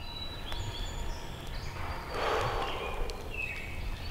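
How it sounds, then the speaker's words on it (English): Birds singing outdoors: thin, high chirps and whistles scattered over a broad background hiss of wind or distant ambience, with a brief swell of rushing noise in the middle. "Listen to the birds."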